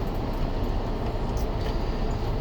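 A train rumbles past close to a stopped semi truck, a dense, steady low roar with rattling that holds at constant loudness throughout.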